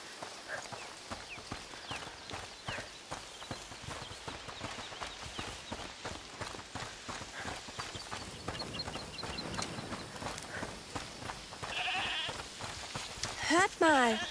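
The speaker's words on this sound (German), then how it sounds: "Hört mal, ist das die Ziege, die er meinte?" A goat in the video game A Plague Tale Requiem bleats amid busy game ambience with hoof-like clip-clop footsteps and rustling, the bleats growing louder and clearer toward the end.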